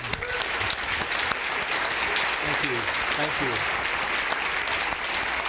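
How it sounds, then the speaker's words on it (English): A conference audience applauds steadily and loudly throughout, with a voice speaking briefly over the clapping. "a round of applause"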